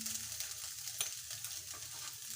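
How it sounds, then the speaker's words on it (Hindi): Pre-cooked chicken frying lightly in a pan gives a quiet, continuous sizzle with faint stirring scrapes close by, and no one speaks. "हमें इसको बस हल्का सा फ्राई करना है। चिकन भी अच्छे से देखिए फ्राई हो गया है।"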